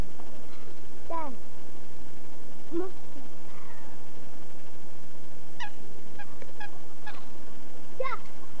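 Waterfowl at Luisenpark in Mannheim give scattered honking calls, several distinct squawks spread over a steady outdoor background, with a voice now and then.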